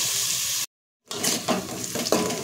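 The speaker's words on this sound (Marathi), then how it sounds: "आता हे छान आपल्याला परतून घ्यायचे" Sliced onions sautéing in a pan; a close, steady sizzle with stirring scrapes, cut by a brief silent gap before the frying resumes with a few louder spatula strokes.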